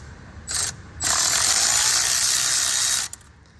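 A ratchet works on 7 mm bolts at a BMW N54 engine's intake, giving a short burst of rapid clicking and then a longer continuous zipping ratchet run, close and loud, with no talk.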